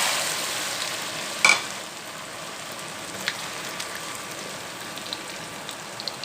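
Potatoes roast in a pan, making a faint, even hiss throughout, with one sharp clatter near the start and a few small ticks afterward.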